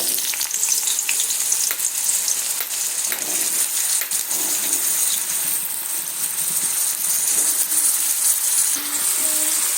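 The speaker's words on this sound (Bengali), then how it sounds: "আগে থেকে কেটে রাখা বেগুনগুলো আমি তেলের মধ্যে দিয়ে ভেজে নেব" Cut eggplant pieces fry in hot oil in a wok, a bright, dense crackling sizzle that runs steadily throughout, with occasional light knocks and stirs.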